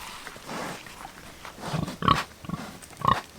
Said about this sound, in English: little pigs are probably just as fun to watch as baby goats